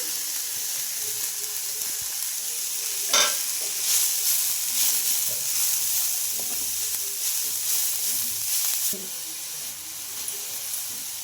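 Onions and grated carrot frying in a pan, a continuous near hiss and sizzle with steady scraping strokes as they are stirred, and no talk.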